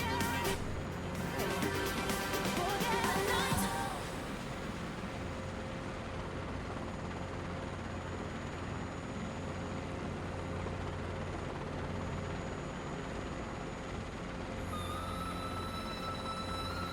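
A Robinson R22 helicopter in a flight simulator game, a steady continuous rotor and engine drone with a rapid beating pulse at the start, loud and unbroken throughout.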